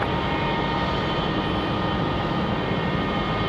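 An American Airlines Boeing 737 taking off from Raleigh-Durham airport gives a steady, loud jet roar that fills the whole stretch evenly, with no voices over it.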